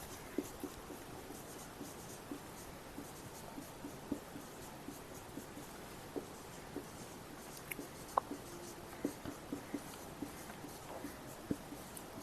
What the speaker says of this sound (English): I'll just write it down.